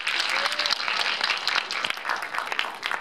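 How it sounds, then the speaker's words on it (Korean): A room full of people at a Jeonju International Film Festival audience talk claps steadily for a few seconds for the director, a warm burst of applause with scattered louder hand claps. "감독님께 박수 한번 부탁드립니다"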